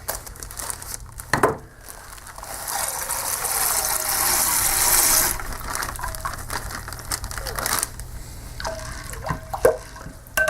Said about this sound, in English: Dump in a crock pot full of water.